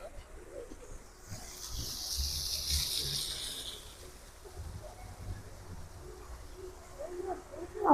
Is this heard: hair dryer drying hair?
no